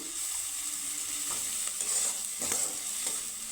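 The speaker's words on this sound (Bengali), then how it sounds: "আর পেঁয়াজটাকে আমি হালকা করে ভেজে নিয়েছি" Sliced onion with a pinch of salt fries and sizzles gently in a pan, a steady soft crackle with occasional stirring scrapes, close and fairly quiet, no voices.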